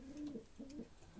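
A racing pigeon coos nearby in a soft, low, repeated throaty phrase, heard three times in quick succession against a quiet background.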